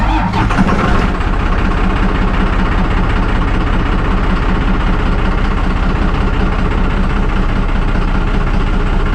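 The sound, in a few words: diesel engine starting and running rough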